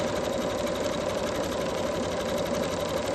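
A Janome MemoryCraft 7700 sewing machine stitches at a fast, even pace, its close, steady mechanical whir continuing unbroken with no talking.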